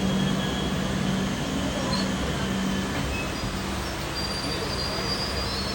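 A Shalimar-bound train rumbles past at close range, a steady broadband roar with a low hum and occasional faint squealing wheels throughout, no voices.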